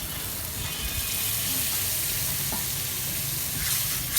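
Spice masala frying in a pan, a steady broadband sizzle with faint scraping under it, continuous and close for a few seconds with no talk.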